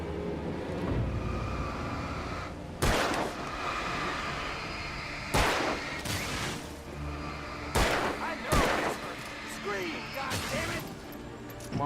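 Gunshots ring out in the video game Alan Wake, four or five sharp loud cracks spaced a few seconds apart over a rumbling game soundscape, with a voice talking throughout.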